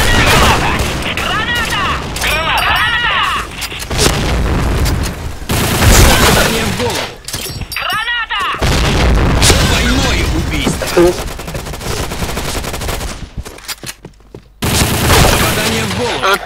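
Rapid gunfire bursts and booming grenade explosions from the Point Blank video game, loud and dense with brief gaps, under excited voices talking.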